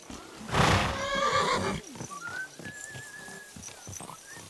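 A horse neighs loudly and close in the video game Kingdom Come: Deliverance II, a long whinny followed by soft hoof clip-clops and a few high whistling tones.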